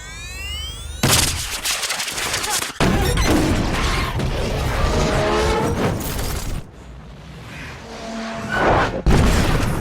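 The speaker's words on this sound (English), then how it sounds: "Michael Bay has to throw in a fucking explosion at the end of the film" A loud, rumbling movie explosion as a van blows up a car erupts after a rising whine, followed by sustained crashing debris and booming, with a second heavy blast near the end.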